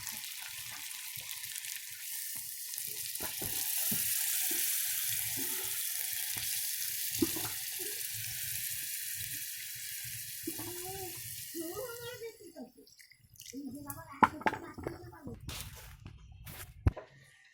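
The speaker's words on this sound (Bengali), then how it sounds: "তারপরে পানি দিয়ে দেবো" Water is poured into beef curry cooking on a clay stove, a long, even rushing hiss for about twelve seconds, then fading as a voice speaks amid clinks and light sizzling.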